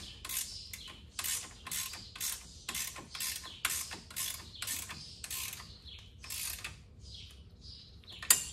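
A ratcheting wrench turns a 19 mm nut while a long-travel suspension kit goes onto a 2020 Yamaha YXZ1000R. The close, faint clicking comes in quick, regular bursts, with short pauses as the wrench swings back.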